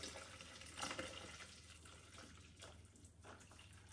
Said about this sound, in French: je viens couvrir d'eau jusqu'au niveau maximum